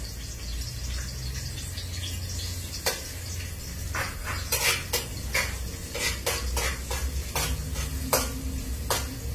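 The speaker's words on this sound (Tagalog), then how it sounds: "Magigisa natin ng sibuyas at bawang" Onion and garlic sauté in a pan with a low steady sizzle while a metal spatula scrapes and knocks against the pan in irregular bursts, close and clear.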